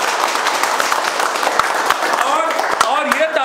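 Students clapping together in a classroom: a steady patter of many hands in loud applause throughout, with voices talking and calling out over it.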